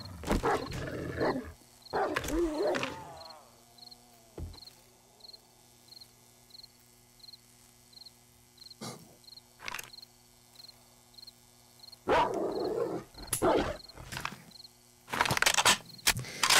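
A wolf in 7 Days to Die lets out a few loud, rough growls and snarls in separate bursts, spaced between quieter stretches with a faint insect-like chirp and ambient hum.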